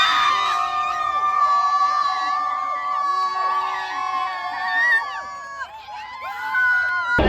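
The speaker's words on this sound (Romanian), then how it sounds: "Aplauze pentru Petre Radicev și Andrei Cristea." A crowd at a car drifting event in front of the Palace of the Parliament in Bucharest cheers loudly and steadily, with high whoops, shouts and excited yells layered over one another, no clear clapping.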